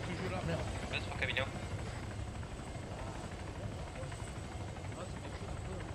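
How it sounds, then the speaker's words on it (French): Police helicopter in Arma 3 Altis Life makes a steady rotor and engine drone throughout, heard beneath people talking. "on a un hélico de la police"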